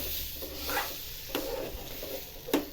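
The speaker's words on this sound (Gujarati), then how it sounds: "દૂધ એડ કર્યા પછી ધીમે ધીમે" Sukhadi mixture is stirred in a pan after milk is added, making soft scraping sweeps with a faint sizzle underneath and a few sharper scrapes of the spoon against the pan, close and quiet, no speech.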